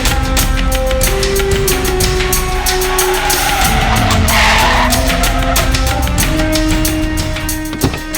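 A car skids with a loud, sustained tire squeal and engine roar, close and intense for several seconds before easing at the end.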